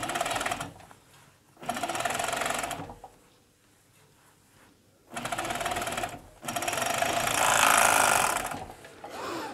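An overlocker (serger) sews a vest (undershirt), its fast mechanical whirring running in several bursts of a second or more each, separated by quiet pauses, close and loud.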